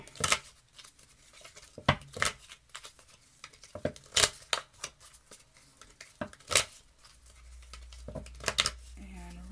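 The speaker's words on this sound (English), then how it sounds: "Shuffle till we feel it." Tarot cards are shuffled by hand, giving irregular papery slaps and riffles in uneven bursts, close and crisp, with quiet stretches between.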